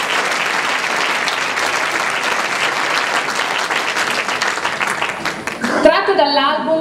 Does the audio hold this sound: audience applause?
yes